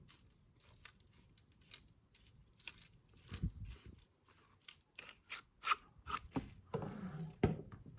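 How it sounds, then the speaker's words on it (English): A Korbanth lightsaber hilt is unscrewed with Allen keys, giving a series of small, close metallic clicks and scrapes in an irregular rhythm; faint overall and without speech. "Just unscrew this side."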